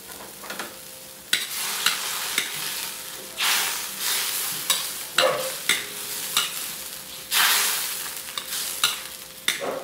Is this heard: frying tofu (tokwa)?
yes